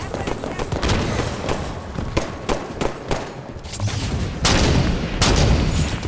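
Gunfire from the Halo 5 video game: rapid sharp shots and bursts in quick succession, loud and close, with heavier blasts toward the end, while players talk over it.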